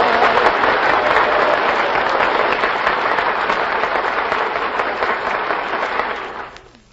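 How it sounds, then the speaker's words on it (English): A radio studio audience applauds steadily for about six seconds, a dense, loud wash of clapping that fades out at the end, with no voices over it. "the studio audience will applaud, indicating their favorites"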